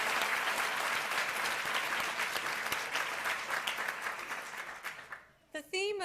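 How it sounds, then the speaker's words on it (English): Conference audience applauding co-chairs, dense sustained clapping that fades out near the end before a voice begins speaking. "can we have another round of applause for them?"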